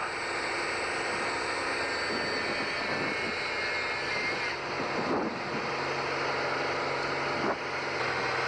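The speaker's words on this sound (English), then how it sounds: "And we'll lift off. And the landing gear is coming up now." A small airplane lifts off with its landing gear retracting. A loud, steady engine roar with wind noise holds throughout, and faint mechanical shifts come near the end.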